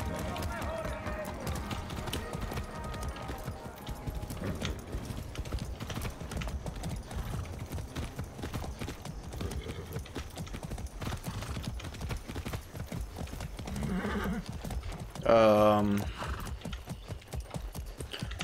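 Horse hooves clip-clop in the video game Far Cry 6, a steady rhythmic trot running throughout at moderate loudness, with a brief louder snort or whinny near the end.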